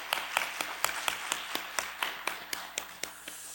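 A church congregation claps together during a year-end worship service, a steady run of sharp, evenly spaced claps at moderate distance in a reverberant hall, with no talking over it.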